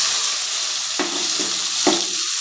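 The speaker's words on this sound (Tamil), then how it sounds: "நான் ஜீரகமாக ஆட் பண்ணியிருக்கேன் ஜீரகம் பொறிஞ்சோடனே" Small shallots with cumin seeds frying in hot oil for a drumstick-leaf sambar, giving a steady broadband sizzle with a few sharp spatula knocks or stirs, close and continuous, no talking.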